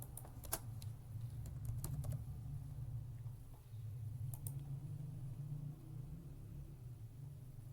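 Typing on a computer keyboard: irregular bursts of quick key clicks over a low steady hum, with a short pause midway.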